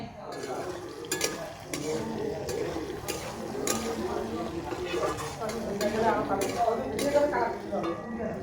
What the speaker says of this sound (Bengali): আলুটা আমার আধা ভাজা হয়ে গেছে, অল্প ভাজা হয়ে গেছে।